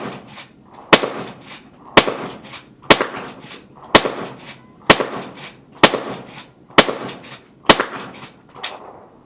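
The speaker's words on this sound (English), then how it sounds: "check out what it does with a 38 Special" Henry Big Boy lever-action rifle firing .38 Special rounds: eight sharp, loud shots at a steady rhythm of about one per second, each followed by a brief echoing tail and the clack of the lever.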